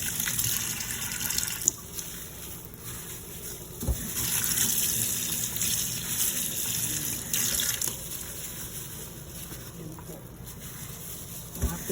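Steak being rinsed under a running kitchen tap, a steady gush of water splashing into a sink with occasional knocks, continuous and fairly close.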